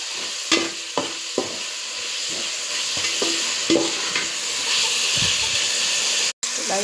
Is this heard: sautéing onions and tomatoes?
yes